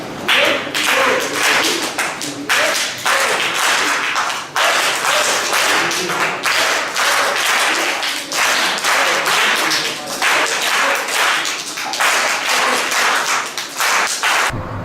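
A group claps in steady, repeated rounds during an acupressure exercise session, the sharp hand slaps close and loud, continuing in rhythmic bursts for the whole stretch.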